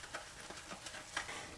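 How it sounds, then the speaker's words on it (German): Osaka-style okonomiyaki frying in a pan over moderate heat, a steady close sizzle with small crackling pops and no voices. "Das muss jetzt hier bei nicht so großer Hitze 4 Minuten schön backen"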